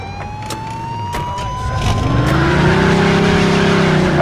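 A car in the Mafia II video game pulls away with a rising, revving engine and squealing tires, a police siren wailing close by throughout the short burst.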